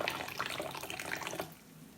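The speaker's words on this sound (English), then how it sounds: "And nice high pour here" Aged 1996 Tieguanyin oolong tea poured from a height into a cup: a steady, splashy trickle for about a second and a half, then it stops.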